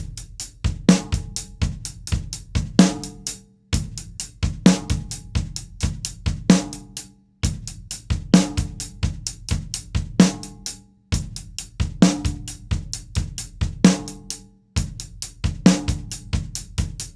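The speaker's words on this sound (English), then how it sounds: "this is the one that's just offbeat 16th notes with the bass drum." Drumset ostinato of offbeat sixteenth notes on the bass drum with hi-hat, repeating in steady one-bar cycles with brief gaps between, clear and close with no talking.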